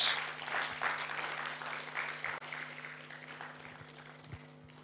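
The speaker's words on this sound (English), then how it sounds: "Can we give ourselves a round of applause?" Audience at a university symposium applauding, a fairly faint, steady wash of clapping from many hands that slowly tapers off over a few seconds, with a low electrical hum beneath.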